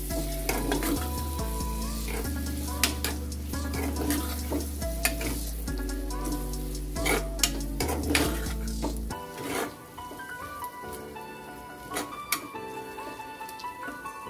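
Green peas sizzling in a pan over a medium gas flame for lili hardaar nu shak, a steady frying hiss with scattered clinks and scraping of utensils against the pan, fairly close and without talk.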